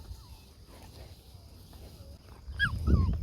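Puppies whine softly around sheep outdoors, with a few thin high whimpers scattered through the clip and a louder burst near the end over rustling and footsteps. Quiet background noise runs throughout, along with faint speech.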